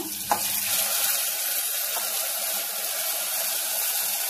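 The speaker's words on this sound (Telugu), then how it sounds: "2 నిమిషాలు ఫ్రై చేద్దాం" Moong dal and rice fry in ghee in a pan for simple katte pongali, giving a steady, close hiss of sizzling with a faint clatter near the start and no talking.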